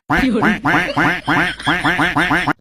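A duckling quacks loudly and close by in a rapid, insistent series of harsh calls that runs on almost without pause.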